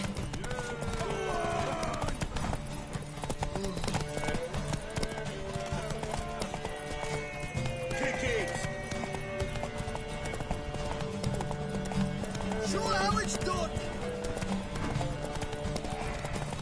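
Horse hooves clip-clopping with occasional whinnies in a medieval video game, heard continuously amid battle ambience and shouted voices over about sixteen seconds.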